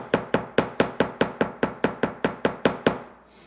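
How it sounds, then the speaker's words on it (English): Hammer blows flattening a metal square spiral, or meander, about a dozen close, sharp strikes in an even steady rhythm with ringing metallic decay, loud and unaccompanied, ending in a short fading tail. "And I'm going to go ahead and hammer this."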